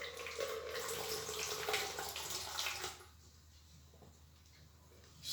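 Water pours from a small reservoir into a measuring container in a close splashing trickle for about three seconds, then stops, leaving quiet room tone.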